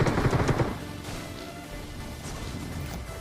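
Groza assault rifle fire in PUBG: a loud burst of rapid shots in the first moment, then a lower, busier stretch of game sound that continues to the end.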